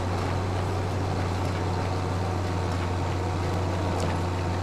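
A Mercedes tractor engine in the Farming Simulator 25 video game screams steadily at high revs, a loud, constant droning roar that runs without a break throughout.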